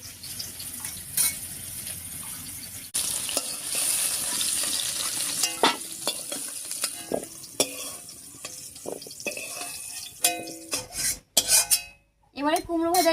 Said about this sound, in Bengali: তেলের উপরে কুমড়োটা দিয়ে হালকা করে ভেজে নিয়েছি